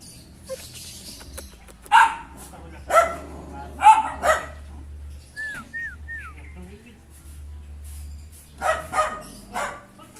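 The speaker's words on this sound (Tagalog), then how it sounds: "Galit na galit yung aso." An angry dog barks in several sharp bursts spaced a second or two apart, with a few faint bird chirps and low background rumble between them.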